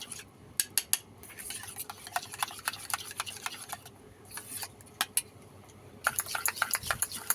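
Sour yogurt being whisked in a steel bowl gives a close run of sharp metallic clinks and scrapes, quick and uneven, with short pauses between bursts and no voices.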